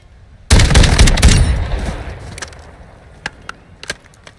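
A KV Broadside shotgun fires in Warzone 2, a single loud close blast that rings out and decays, followed by a few sharp clicks of handling or reloading.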